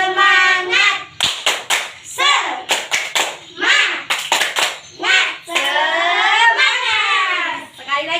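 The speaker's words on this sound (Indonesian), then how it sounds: "Tepuk semangat." Classroom children perform the tepuk semangat clapping chant, bursts of sharp group claps in patterned rhythm alternating with children chanting and a teacher's voice, close and loud.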